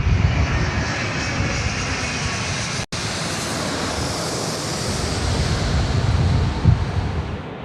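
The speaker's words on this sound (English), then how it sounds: "Here we go, All Nippon Airways now. Finals. Runway 16 right." An All Nippon Airways airliner lands at night on runway 16 right at Sydney Airport. A loud, broad, continuous engine roar carries through without pause, close and powerful, with no talk.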